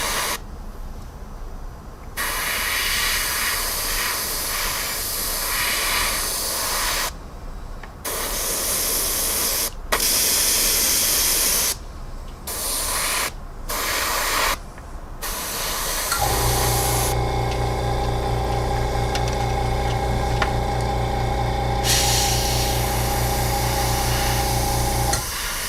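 A Procon Boy PS-274 airbrush sprays olive drab paint in loud, close hissing bursts broken by short pauses, before settling into one long continuous spray with a steady tonal hum beneath it.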